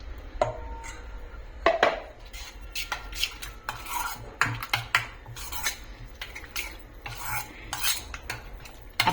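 A spoon scrapes and clinks around a metal pot as thick yogurt is stirred into a spiced mixture, giving an uneven series of close taps and rubbing strokes with no talking.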